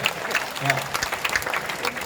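An audience at a Hindi comedy poetry gathering clapping, brisk dense applause throughout with cheering voices mixed in.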